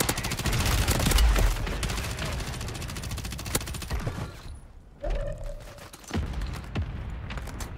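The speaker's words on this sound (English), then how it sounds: "this sidewinder is actually a legitimate gun." Sidewinder gun fire in Call of Duty Warzone on Rebirth Island, heard as a dense rapid burst of automatic shots that cuts off, followed by a couple of sparse single reports and game clatter.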